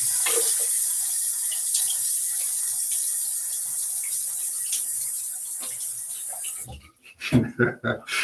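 Water runs steadily from a bathroom tap as it is used to wet the face before a shave, a continuous hiss under a talking voice that breaks into louder splashing near the end.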